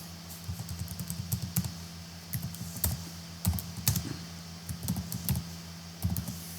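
Steady, close typing on a computer keyboard, with clusters of keystrokes in an irregular rhythm over a low constant hum, with no speech.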